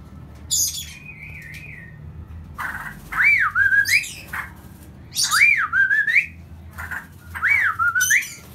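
A straw-headed bulbul repeats loud, rich warbling whistles in several phrases separated by pauses, over a low steady background hum.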